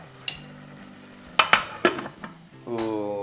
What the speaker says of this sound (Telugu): దీన్ని ఒక 5 minutes అలా మూత పెట్టేసి ఉంచేద్దాం